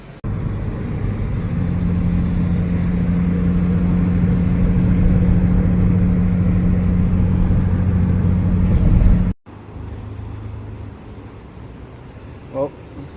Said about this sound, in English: Definitely needs a wheel bearing. I just can't tell which one it is, but it's pretty loud.